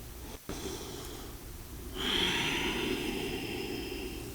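Slow, deep breathing while holding a forward fold in an Ashtanga yoga practice: a soft breath, then a long, hissing, throaty breath from about halfway through, close and quiet, with no talking.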